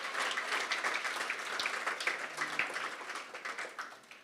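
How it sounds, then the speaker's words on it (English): Audience applause at an association AGM and awards evening: steady clapping from a room of people, moderately loud and sustained throughout, with a few sharper individual claps standing out near the end. "Give them a warm round of applause"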